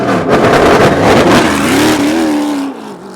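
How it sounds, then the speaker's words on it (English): A Cadillac V8 race car revs hard and loud as it pulls out during Grand Prix of Long Beach qualifying, engine pitch sweeping up and settling into a steady rising drone before cutting off near the end. "That was the unmistakable revving V8 of the Cadillac heading out"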